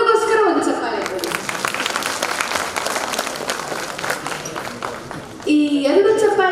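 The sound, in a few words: audience applause for the children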